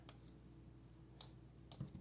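Typing on a computer keyboard while working in design software, a few sparse, faint key clicks spaced far apart over a quiet background hum, close by with no talking.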